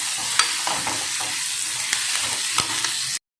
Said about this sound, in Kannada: ಇದನ್ನು ಚೆಂದಾಗಿ ಫ್ರೈ ಹಾಕೋತೀನಿ